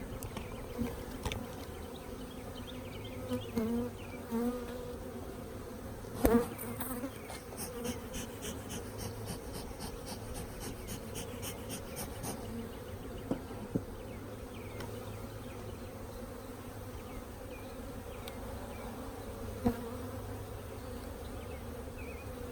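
Honeybees buzzing around a nucleus hive during a colony install, a dense steady hum of many wings, moderately close, with occasional brief knocks and handling noises.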